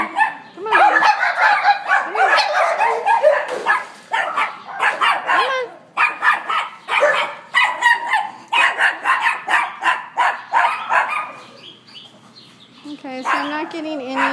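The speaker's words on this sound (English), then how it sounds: "I'm just going to sit in front of your kennel and let you bark at me." A dog barks repeatedly at close range from inside a kennel, a steady run of loud barks with brief gaps, while someone talks softly over and between them.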